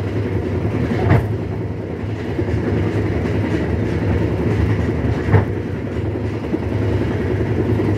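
Inside the KA Airlangga passenger train, a steady rolling rumble of wheels on rails continues throughout, with two sharp rail-joint clacks a few seconds apart.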